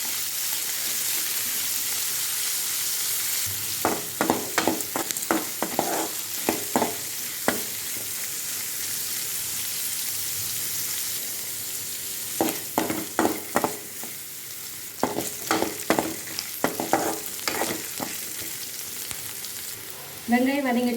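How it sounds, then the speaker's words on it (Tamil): Small onions (shallots) sizzle in oil in a pan for tomato chutney. A steady frying hiss is broken by bursts of rapid spatula scraping and stirring clatter close by. "நான் வந்து சின்ன வெங்காயம் தான் ஆட் பண்ணுறேன். இதை நல்லா வதக்கிடுங்க."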